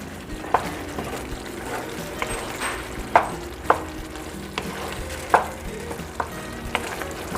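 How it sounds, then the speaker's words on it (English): Food sizzles and fries in a pan while a utensil stirs and scrapes the bottom, giving occasional sharp clacks over a constant bubbling hiss as a sauce thickens. "Just going ahead and stirring so that it doesn't stick to the bottom of the pan."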